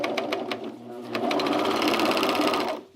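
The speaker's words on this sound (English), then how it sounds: "And then I'm going to keep sewing without trimming my threads with my blade." A sewing machine stitches a seam in trousers, rapid needle chatter that runs in a short burst, pauses briefly, then continues steadily before stopping, with a little talk faintly underneath.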